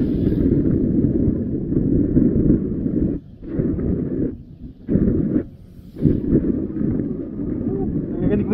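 Steady low wind rumble buffets the microphone outdoors along Kennon Road, with brief dips where it drops away, then resumes loud and continuous.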